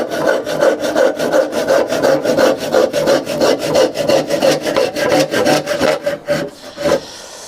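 Wood being cut on a sawhorse workbench, the stroke held by clamps set well apart from the cut. A steady, loud run of rapid back-and-forth hand-saw strokes, close by and without talk, slowing and stopping near the end.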